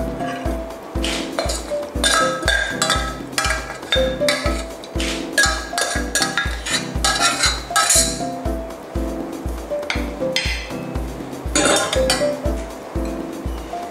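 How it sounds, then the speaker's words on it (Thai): Metal utensils scrape and clink steadily against a dish while sweet liver is scooped onto a plate, a close, repeated rhythm of clinks and taps with hardly any talk. "เสร็จแล้วนะคะเราก็ตักใส่จานเลยค่ะ"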